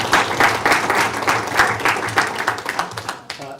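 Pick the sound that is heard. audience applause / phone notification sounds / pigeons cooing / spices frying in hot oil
audience applause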